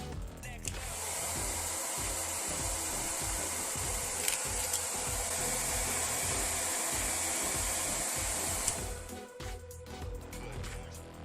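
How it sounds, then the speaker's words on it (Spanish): A handheld hair dryer blows steadily for about eight seconds, heating a sticker on a microwave's front panel, a loud continuous whoosh with a high whine that cuts off near the end, followed by light handling noises. "Con un secador de pelo trataré de levantar el sticker del panel frontal."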